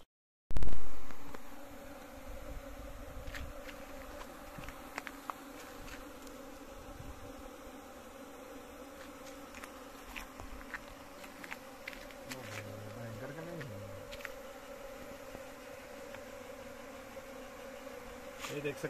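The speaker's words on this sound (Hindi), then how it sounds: "ये देख सकते हैं मधुमक्खियां अपने आप मार्च होती हुई।" A honeybee swarm being caught in a net trap buzzes steadily at moderate volume throughout, after a single thump at the start. Individual bees flit close by now and then.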